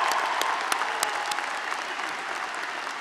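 A crowd at a 2013 university commencement applauds an honoree, with steady, fairly distant clapping and a few sharper individual claps standing out throughout.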